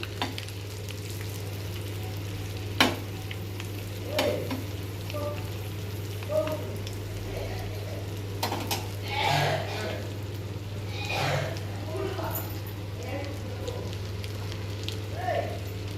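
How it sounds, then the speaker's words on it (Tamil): Eggs fry one by one in a pan for a Tamil-style egg thokku, giving a steady, close sizzle with a few sharp clinks, all over a constant low electrical hum. "ஒரு 2 நிமிஷத்துக்கு நல்லா ஃப்ரை ஆகட்டும்."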